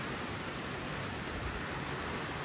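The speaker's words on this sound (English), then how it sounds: "It is raining good." Steady rain falls outdoors in a good downpour, an even dense hiss of drops pattering on surfaces, fairly soft and constant throughout with no voices.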